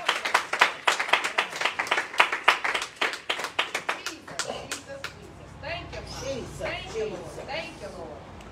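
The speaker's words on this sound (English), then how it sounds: "Clap your hands for God." A church congregation claps hands in a steady rhythm of sharp, distinct claps for about five seconds, then the clapping stops and a voice carries on speaking.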